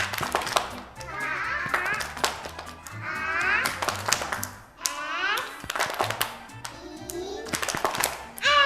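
Children chant together in a classroom clapping game, rhythmic bursts of hand claps and taps mixed with shouted young voices, with an adult voice leading between rounds.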